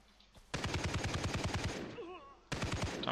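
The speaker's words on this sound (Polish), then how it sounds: "Skąd te strzały?" Automatic gunfire in the video game Far Cry 3 rattles in two rapid, loud bursts, the first lasting about a second and a half and the second starting after a short pause.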